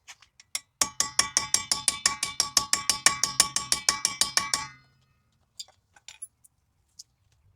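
Rapid metallic tapping on the end of a homemade tool being used to drive out a brake bolt on a 2010 Buick Lucerne, about twenty quick clinking strikes in a steady burst, followed by a few sparse taps.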